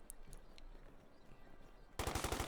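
Machine gun fire in Company of Heroes 2 breaks in late as a rapid burst of sharp, evenly spaced shots, louder than the quiet battlefield ambience before it.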